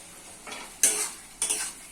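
Potatoes fry in tomato masala, with two or three short bursts of sizzling and spatula scraping close by over a quiet, low frying hiss.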